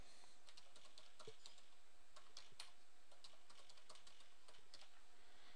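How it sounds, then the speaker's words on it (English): Steady typing of a password on a computer keyboard, quick light key clicks in irregular runs, close and fairly quiet. "We type in a password."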